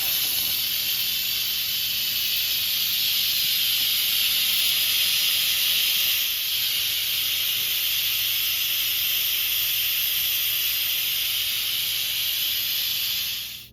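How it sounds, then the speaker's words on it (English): Pressure cooker vent releasing steam while cooking a chuck roast: a steady, loud, high hiss held for over thirteen seconds, close and unbroken, cutting off abruptly at the end. "we're gonna open our vent and let it vent out and finish"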